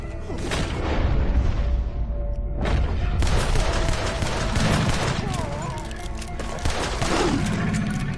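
Heavy gunfire in Red Dead Redemption 2 as shots are fired at an alligator, loud repeated blasts and rattling bursts filling the scene with a brief lull, voices faintly mixed in beneath.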